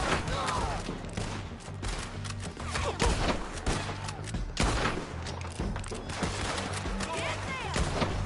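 Rapid gunfire bursts crackle continuously through a Red Dead Redemption 2 shootout on PS4, dense and loud with booming thuds, while voices shout over the fighting.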